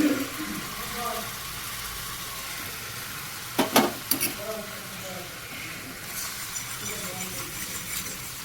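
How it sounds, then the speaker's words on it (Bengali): Chopped garlic and chilli hit hot oil in a kadai, giving a steady hissing sizzle all the way through, with a few brief clattering stirs in the middle and someone speaking over it. "প্রথমে দেবো এই রসুন আর লঙ্কা কুচিটা তেলটা আর একটু গরম হোক"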